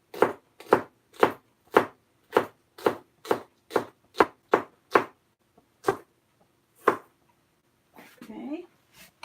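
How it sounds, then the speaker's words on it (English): A knife dices vegetables on a cutting board in a home kitchen while preparing vegan Mexican menudo, giving about a dozen crisp, evenly spaced chops that thin out to a few strokes before a short rustle at the end. "So I'm going to dice them up."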